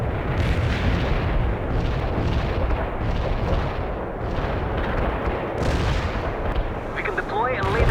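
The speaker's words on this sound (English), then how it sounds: "Our barrage hit the target." Artillery barrage in the real-time strategy game World in Conflict: dense, continuous rumbling shell impacts and booms fill the whole stretch, loud and close, with brief radio-style voice chatter near the end.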